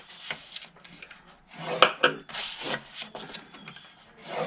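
Paper being scored along a scoring board to make a two-piece square box for Ferrero Rocher chocolates, heard as several short, close scraping and rubbing strokes in quick succession with brief pauses between them.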